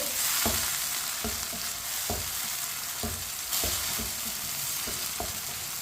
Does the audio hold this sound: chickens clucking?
no